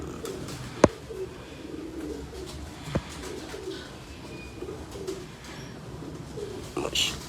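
A Mian Sahib breed pigeon coos softly indoors, low murmuring calls mixed with background voices and a couple of sharp clicks.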